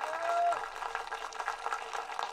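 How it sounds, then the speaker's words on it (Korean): Spectators at a K4 League football match applaud the Goyang KH squad in the stadium, a soft, distant patter of clapping that rises and falls without voices in the clip. "관중 여러분, 다시 한번 KH 선수단에게 응원의 박수를 보내주시겠습니다."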